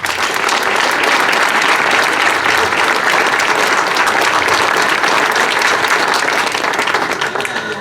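Loud, dense applause from the crowd at the Corpus Domini flower-carpet festival in Acquaviva Platani, sustained and even across several seconds with no pauses.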